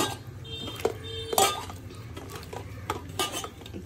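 Tangra fish being mixed with spices in a pan brings close metallic clinks and scrapes of a utensil against the pan, a few sharp knocks over a faint background hiss, with no talk.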